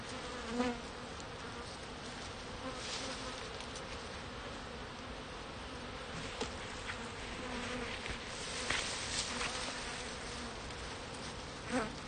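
Honey bees buzzing steadily during the splitting of a bee colony, a dense continuous hum of many insects at close range with occasional louder passes, no voices.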